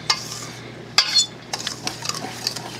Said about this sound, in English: So now we're going to just mix this up a little bit like this.